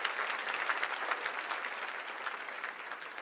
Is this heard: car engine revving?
no